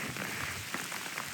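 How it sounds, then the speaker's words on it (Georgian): Rain falls steadily on the Chanchakhi mountain pass in Khevsureti, Georgia, a dense, even hiss of drops close by with faint patters, no voices. "აი, განახებთ როგორ წვიმს."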